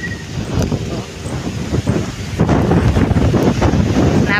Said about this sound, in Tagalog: Kung hindi dinalawang kamay mapapawid po sa lakas ng hangin.